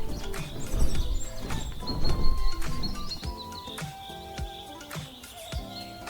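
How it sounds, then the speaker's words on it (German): Wild birds calling in the Pantanal wetlands, a mix of high chirps and whistles scattered over a busy outdoor background with occasional soft knocks, fairly close and without talking. "Im Pantanal sind sie nicht nur Vögel, sondern der lebhafte Klang der Wildnis."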